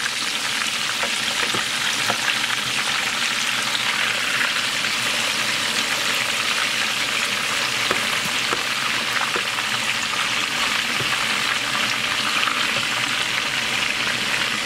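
Fish fries in a pan with a steady, dense sizzle and crackle, close and even throughout, with no talking over it.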